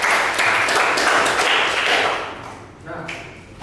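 Audience applause in a classroom during a teacher-training performance assessment in Denpasar: a steady wash of clapping for about two and a half seconds that then thins out and fades.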